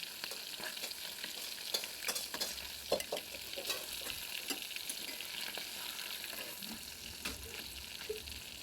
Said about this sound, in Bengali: এরপরে আর যে মাছগুলো আছে সেই মাছগুলোকেও ভেজে নেব।